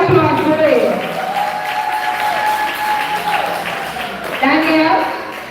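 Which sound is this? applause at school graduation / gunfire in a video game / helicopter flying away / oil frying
applause at school graduation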